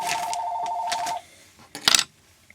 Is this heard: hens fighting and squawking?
no